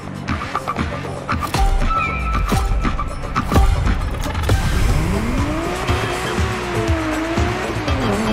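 Tires of a Ferrari 365 GTB4 Daytona squeal in The Crew Motorfest racing game, rising, bending whines over a loud, steady engine roar, with several sharp knocks and thumps mixed in.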